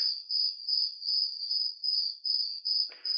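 Crickets chirp in a steady high-pitched trill, pulsing in regular bursts, close and clear with no voices.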